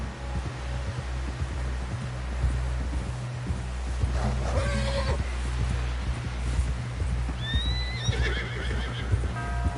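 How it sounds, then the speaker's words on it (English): A horse in the video game Red Dead Redemption 2 gallops with steady hoof clip-clops under a low rumble, then gives two loud, high whinnies partway through and near the end. "Someone help John down off this horse"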